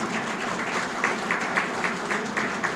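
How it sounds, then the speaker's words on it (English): A conference hall audience applauds at a university media studies event, steady dense clapping at moderate level with no gaps across the moment. "A big round of applause"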